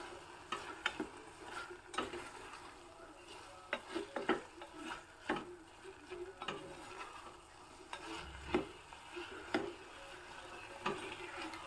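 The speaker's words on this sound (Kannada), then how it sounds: "ಈಗ ಒಮ್ಮೆ ಅಕ್ಕಿಯನ್ನು ಸಹ ಚೆನ್ನಾಗಿ ಮಿಕ್ಸ್ ಮಾಡಿಬಿಟ್ಟು ಇದೇ ಮಸಾಲದ ಜೊತೆನೇ ಹುರ್ಕೋಬೇಕು" Rice mixed with masala and vegetables such as potato, capsicum and soaked peas frying in a pan, with repeated scraping and tapping stirs of a spoon over a soft sizzle, close and quiet, no voices.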